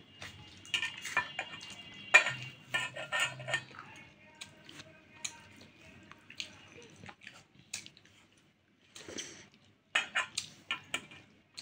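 A meal of rice with fried egg at home, with scattered clinks of a spoon or fingers against a plate, wet squishy mixing sounds and soft chewing, close and fairly quiet, with a short pause before the clinking resumes.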